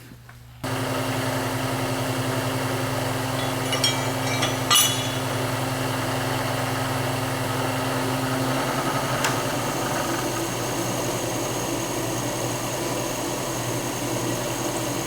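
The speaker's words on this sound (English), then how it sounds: "I'm using the power feed on the mill" A vertical milling machine runs steadily with power feed during production drilling, a constant motor hum and whine starting abruptly, with brief metallic clicks and a slight change in tone partway through.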